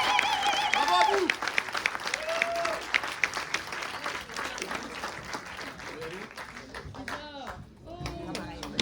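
An audience at a debate competition final applauds in a sustained, dense round of clapping that fades near the end, while voices speak over it throughout.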